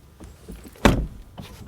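A BMW M4 door swinging shut with one loud, solid thud, preceded by faint clicks and followed by a softer latch or window-motor sound, heard close up and alone.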